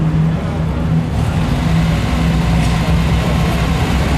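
A BMW 2002 Ti rally car idles at the start of a historic Monte Carlo rally stage, its steady low engine rumble continuous and fairly loud against a broad background wash, with no spoken voices.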